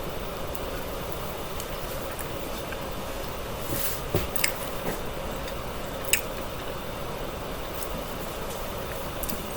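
Close, steady chewing of a bite of cheddar-stuffed meatloaf made with moist hamburger, soft squishy mastication with a few sharper clicks, heard alone with no talking over a constant low background.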